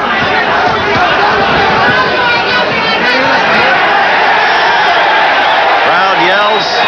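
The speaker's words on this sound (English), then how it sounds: "Crowd yells." A boxing crowd at a Sammy Serrano versus Julio Valdez bout yells and roars continuously, a loud dense wash of many voices with a commentator talking over it throughout.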